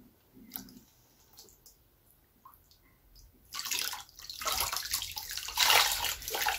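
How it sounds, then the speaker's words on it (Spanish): A bare foot is rinsed off with salt water during a home foot bath, first with faint sloshes and drips, then a louder, steady pour and splash of water over the last few seconds, with no talking. "nada más solo se le enjuaga porque para limpiar la sal"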